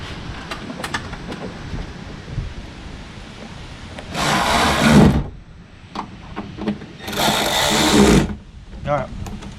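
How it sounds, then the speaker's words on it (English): Two bursts of an electric driver tightening Allen head screws on a lockable metal medicine cabinet being installed in a 2022 Ford Bronco Wildtrak, each whirring loudly for about a second amid quieter handling noises. "You do want to make sure when you're using electric, you don't over torque these Allen head screws"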